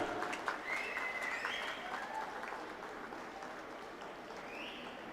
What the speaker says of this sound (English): Parents, please give a round of applause for all the winners.